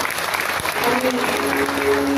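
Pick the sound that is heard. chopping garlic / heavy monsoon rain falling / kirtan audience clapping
kirtan audience clapping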